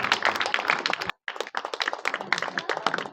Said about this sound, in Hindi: तालियां ना रुके